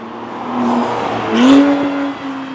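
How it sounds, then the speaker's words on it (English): A revving Acura NSX engine drones, then a sharp hissing whoosh of a turbo blow-off valve bursts out as the revs drop. "You can hear like the blow-off sounds."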